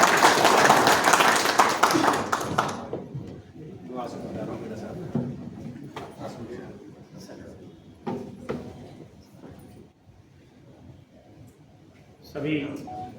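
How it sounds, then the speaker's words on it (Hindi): Applause from an audience at a tribal community gathering in Rajasthan, a loud dense burst of clapping for about two and a half seconds that fades into murmuring and scattered noise, with brief speech near the end. "जोरदार तालियों के साथ"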